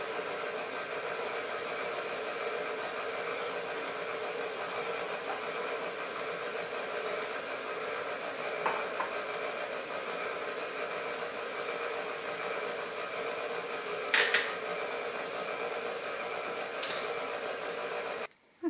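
An electric mixer runs steadily, blending sugar and butter for gluten-free almond flour apple baking. Its even motor hum holds close and constant throughout, with a few faint clinks near the end.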